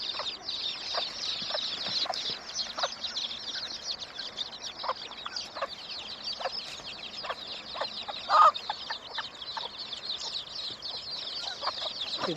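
Several chickens cluck and chatter continuously at a moderate distance, with scattered short calls overlapping throughout and no talking.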